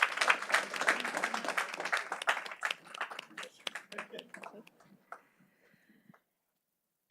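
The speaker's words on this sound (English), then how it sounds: "Another round of applause for Gilbert." An audience at a school board of education meeting claps in a burst of applause that thins to a few scattered claps and fades into silence.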